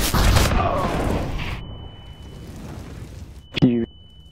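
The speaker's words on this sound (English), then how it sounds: "Flashbang." A flashbang grenade goes off in a shooter video game, a sharp blast followed by a long, steady high-pitched ringing tone, with a short burst of voices and noise near the end.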